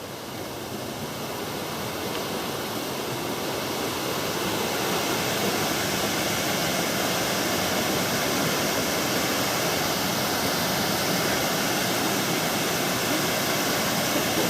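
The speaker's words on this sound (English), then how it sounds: "you get a good view of both waterfalls from this end" Twin waterfalls at Mooney Mooney Ponds in Brisbane Water National Park pour in a steady, dense rush of falling water that stays constant and fairly loud throughout.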